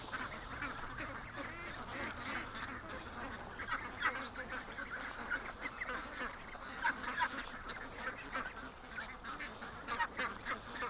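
Ducks quack and honk steadily outdoors in a busy, continuous chorus at moderate distance, with no clear talk over it.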